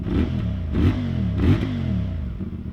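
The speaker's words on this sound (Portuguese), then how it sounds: "Com aqueles pops and bangs característicos deste motor da CF." A CFMOTO 450MT motorcycle engine revs in a few rhythmic surges, its exhaust burbling and popping between throttle blips, close and steady.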